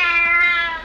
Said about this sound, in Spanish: ¡Gatitos!